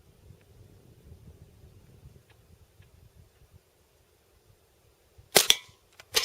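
A BB gun fires at a gold can outdoors, a sharp close crack with a quick metallic ring after a stretch of quiet wind noise, then a fainter click and a second snap.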